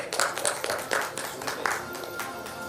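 An audience at a healthcare awards conference claps for an honoured doctor, a fairly sparse spread of hand claps at moderate volume over a room murmur, without clear speech.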